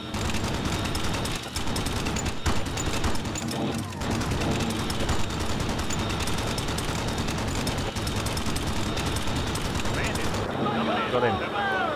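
Sustained, dense gunfire from a B-17 bomber's defensive machine guns in a flight combat game, a loud continuous rattle with engine drone beneath that cuts off abruptly near the end, leaving quieter rumble and scattered sounds.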